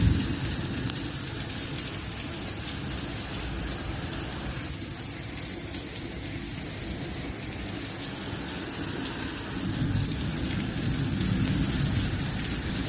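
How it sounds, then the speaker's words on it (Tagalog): Heavy rain pours down during a thunderstorm on the island of Corfu, so dense it blots out nearby houses; a steady, loud broadband roar continues unbroken throughout and swells slightly toward the end. "Tingnan yung lakas ng ulan"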